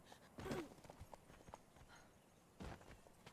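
Horse hooves clip-clop in the game Conan Exiles, a few quiet scattered footfalls with two stronger thuds, faint against a low game background.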